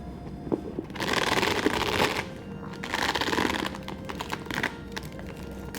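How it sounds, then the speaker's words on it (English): The chain of a Chanel double flap bag jingles in close, clustered bursts of metallic rattling and clinking, loud in two main rounds with lighter taps between. "As uncomfortable as the chain is, it has a comforting sound to it."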